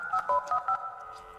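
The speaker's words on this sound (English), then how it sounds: "Your pal Ramley has the repairman on speed dial." Telephone keypad dialing in the Indigo Park video game, four quick, clear tone beeps in a short row, close and fairly loud against a quiet background.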